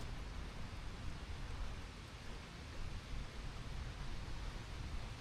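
Rain pours near a waterfall on a mountain in South Korea, a dense, even hiss that holds steady without a break and with no voices over it.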